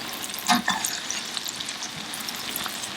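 Shallots and parsley sautéing in melted butter in a pan, a soft, even sizzle with a few scraping stirs near the start, fairly close and moderate in volume.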